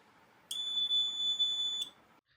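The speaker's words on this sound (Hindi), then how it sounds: "अब जैसे ही हम टच सेंसर को टच करेंगे तो हमारा बज़र ऑन हो जाएगा" A buzzer on a breadboard touch-sensor alarm sounds one steady, shrill electronic tone that holds for about a second and a half before cutting off, loud and close against a faint background hiss.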